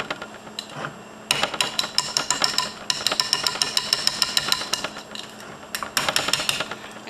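A whisk clatters rapidly against a bowl set over a pot of boiling water, producing fast bursts of metallic clinking that start and stop several times, close and fairly loud.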